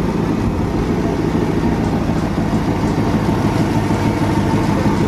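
A 1969 Ford Mustang with a freshly rebuilt carburetor runs at a steady idle, a loud, close, continuous low rumble with an even throb and no break throughout.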